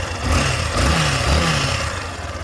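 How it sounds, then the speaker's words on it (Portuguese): Yamaha Factor 150cc motorcycle sits running at idle, a steady low, throbby engine note with slight rises, close and fairly loud with no one speaking. "A moto tá ligada."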